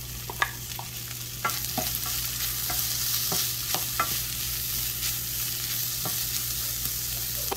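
Corn kernels fry briefly in a pan alongside nopales, a steady close sizzle running throughout with scattered sharp clicks and taps of stirring, no voices.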